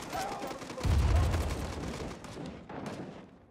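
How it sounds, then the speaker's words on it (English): Rapid AK rifle gunfire in the Rising Storm 2 shooter, a dense burst of shots with a heavy boom near the start, loud and reverberant, fading toward the end. "You hear a lot of AK fire"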